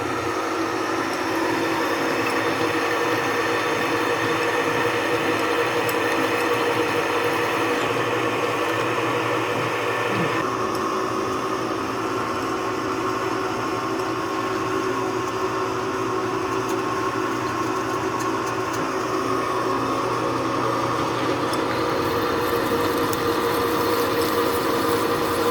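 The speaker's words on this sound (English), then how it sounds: "drill 12 holes in this really thick steel for his engine mounts" A drill boring holes through very thick steel for transmission mounts, a steady, loud grinding whir that runs continuously and close up, with no talk over it.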